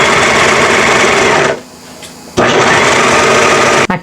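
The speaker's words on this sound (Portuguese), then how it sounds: "eu vou passar o overlock" An overlock sewing machine stitches fabric at high speed, a loud dense whirring run that pauses briefly in the middle, then resumes and continues steadily to the end.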